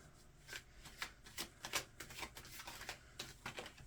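Tarot cards being handled and shuffled, a quick run of papery riffling and flicking snaps at close range, steady and fairly quiet with no talking.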